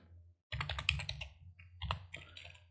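Someone types a name on a computer keyboard, with a quick close burst of clicking keystrokes after a brief pause, then a second short run of key taps, and no talk.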